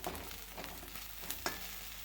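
Onion frying in a pan while making a ridge gourd dish, a continuous close sizzle with a couple of small clicks from stirring near the end.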